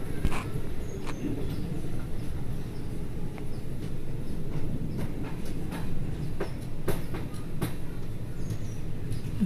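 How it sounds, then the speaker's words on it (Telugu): The Amaravati Express rolls into Gudivada railway station with a steady rumble and rhythmic wheel clatter, heard from on board with scattered sharp clicks and squeals. "Amaravati express entering to Gudivada railway station"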